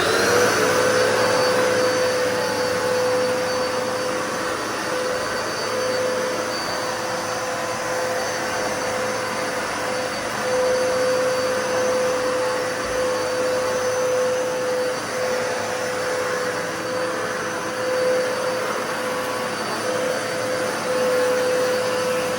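A Dirt Devil corded vacuum cleaner runs continuously in a garage, with a loud, steady motor roar and whine that holds at an even level throughout, with no other sounds.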